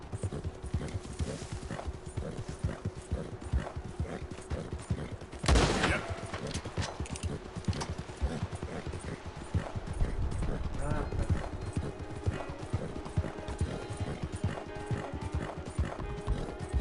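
Horse hooves clip-clopping at a steady pace in a video game, with a sharp burst of gunfire partway through and game sounds underneath; a voice talks over parts of it.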